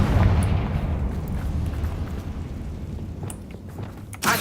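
Confringo blasting spell cast in Hogwarts Legacy: a loud, rumbling explosive burst that slowly decays, then a second sharp blast right at the end.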